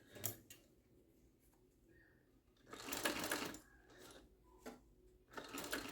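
A sewing machine top-stitches along a backpack handle in short bursts, three loud runs of stitching with quiet pauses between, heard close up and alone.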